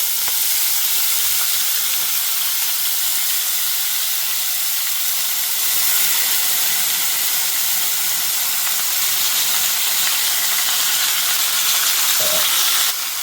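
Banana stem pieces, added to a hot pan already holding curry leaves, sizzle and fry in a steady, loud hiss that lasts throughout, with a couple of faint knocks of stirring.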